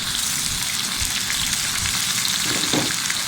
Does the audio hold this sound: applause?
no